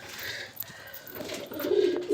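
Pigeons in a home loft murmur quietly at first, then a clearer, louder coo rises near the end over faint background hiss.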